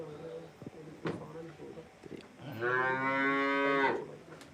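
A buffalo moos loudly during milking on a farm, one long drawn-out low call following some earlier shuffling and short sounds, with people speaking nearby.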